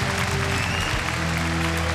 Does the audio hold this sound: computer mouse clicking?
no